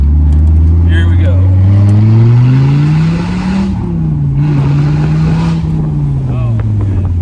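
A 1995 Dodge Viper R/T 10 Roadster engine revs hard through a corner: a loud, close, deep drone that climbs, dips briefly, then surges and falls away again.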